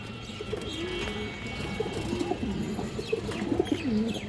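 Several male and female pigeons coo in low, repeated throaty rolls over a steady background hum, close by and continuous.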